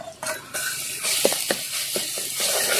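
Ginger and garlic sizzle steadily in hot oil with sautéed onions in a pot for mutton curry, with a few sharp clinks of a utensil stirring, close by.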